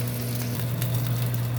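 Eggs being scrambled in a hot pan, a steady close sizzle with light crackling and occasional scraping, over a low constant hum.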